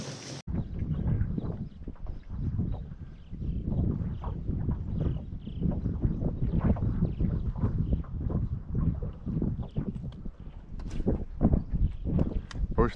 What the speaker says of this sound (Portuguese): Hoje tá ventando gostoso